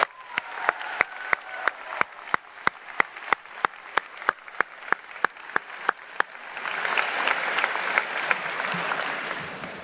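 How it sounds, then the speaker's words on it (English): Applause from the audience at a high school graduation ceremony, at first a few sharp, evenly spaced claps that swell after about six seconds into a dense, sustained clapping crowd. "Could you please join me tonight with a huge round of applause to show our gratitude for this great group of individuals."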